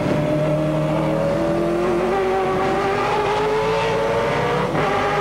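A 1999 V8 Supercars race car driven hard on a street circuit, heard onboard as a loud continuous engine roar rising steadily in pitch through the gears, with a brief dip near the end.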